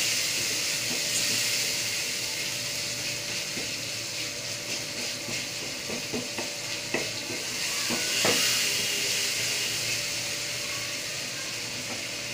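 Tomatoes with salt cooking in a pan for a pomfret fish curry, a steady soft sizzle with occasional stirring scrapes and clinks, close and continuous without talk.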